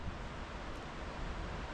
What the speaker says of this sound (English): across this little brook